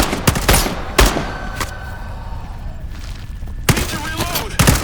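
Gunfire in the Into the Radius 2 virtual reality game's ghost town: sharp close shots fired in irregular clusters, several quick cracks at the start and more near the end, with a rumbling background between.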